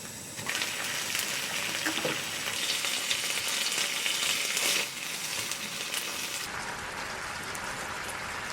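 Spicy baby octopus (jjukkumi) with bean sprouts stir-frying in a pan, a continuous close hissing sizzle with crackling and stirring scrapes, briefly louder in the middle.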